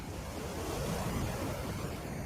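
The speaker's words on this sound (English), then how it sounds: "The wind, the waves, the only beings watching me." Wind and ocean waves wash over an early morning beach in one continuous, full roar, with surf and gusts blending steadily and nothing else standing out.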